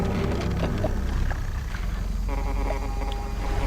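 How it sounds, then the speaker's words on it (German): A boat horn sounds in the fishing video game Dredge, entering partway through as a sustained tonal blast over a constant low engine-and-water rumble. "Jetzt wird gehupt."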